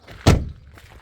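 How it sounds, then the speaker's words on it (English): An Audi TT car door swings shut with a single solid, close thunk, followed by a quiet, low ambient tail. "let's shut this door now and look at the site."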